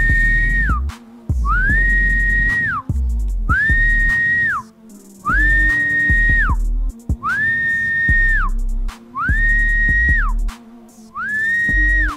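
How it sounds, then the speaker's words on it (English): A person whistles to call trained pigeons, sounding six long, steady, high-pitched whistles at a regular pace with short gaps between them, loud and close. "Now I am going to go in and I'm going to start whistling."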